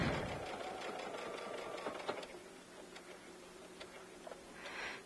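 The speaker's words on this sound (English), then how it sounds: "So I'm going to sew right up to the crease." Sewing machine stitching fabric for a window treatment right up to a crease, a steady close mechanical whir with faint ticking, running alone at low level.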